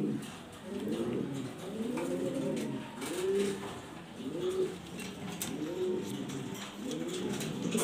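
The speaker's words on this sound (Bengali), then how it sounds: "মাদি কবুতরটা" A pair of black, top-quality exhibition pigeons coo close by, with a steady series of soft rolling coos repeating about every second over light background noise, and no talking.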